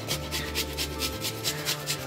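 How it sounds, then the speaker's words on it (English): Garlic being grated on a kitchen grater for Chinese garlic fried chicken wings: steady rhythmic rasping strokes, about ten quick passes, close and fairly quiet with no talking. "Okay guys, I got a grater. We'll grate the garlic."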